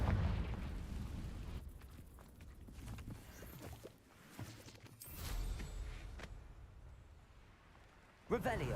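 In a video game, a Confringo explosive spell goes off as a couple of booming bursts among other effects, heard beneath near-constant talking and followed by a sharp pop near the end.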